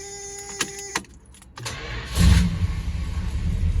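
The Chrysler 300 U Code drag car's engine cranks with a few short clicks, then fires up and settles into a loud, deep, rumbling idle up close.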